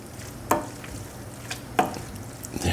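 Seafood-sauced pasta cooking in a pan on the stove, a soft steady simmer and sizzle with two sharp utensil taps against the pan spaced apart and a fainter knock near the end.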